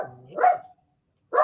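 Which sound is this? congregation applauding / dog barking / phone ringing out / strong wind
dog barking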